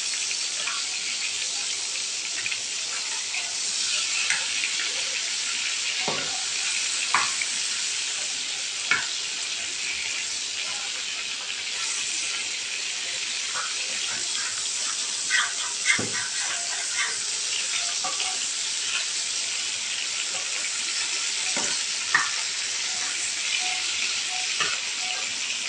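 Hilsa fish fry lightly in a pan with a steady close hiss of hot oil. Scattered pops and crackles break through at irregular moments over about twenty-five seconds, with no talking.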